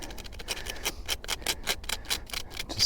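Sandpaper rubbing battery cable connections during a lithium battery install, a quick series of short raspy strokes in steady rhythm, close and fairly quiet with no talking.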